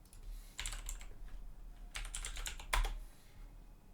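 Typing on a computer keyboard in a command-line session: quick bursts of clicky keystrokes separated by short pauses, with a louder tap near the end, heard close over a low steady hum.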